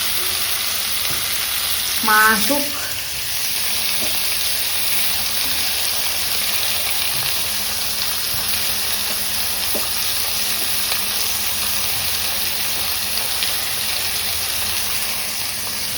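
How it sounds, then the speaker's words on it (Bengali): Pointed gourd (potol) frying in oil in a pan, a continuous close sizzle with faint stirring, while a brief spoken phrase sits near the start. "চলো পটল ভাজা হোক"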